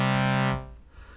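A synthesizer tone built from a few raised partials, starting from a clear wave, sustains as a rich stack of harmonics for about half a second, then cuts off and leaves a soft reverb tail dying away alone.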